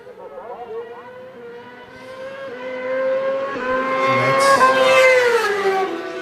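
A drag racing motorcycle capable of eight-second passes makes a timed run, its engine note climbing steadily in pitch and growing louder as it accelerates while an announcer talks over it.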